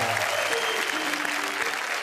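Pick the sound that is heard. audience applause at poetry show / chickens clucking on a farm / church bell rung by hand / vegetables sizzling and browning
audience applause at poetry show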